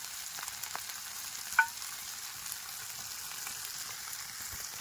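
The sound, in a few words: dried fish frying in oil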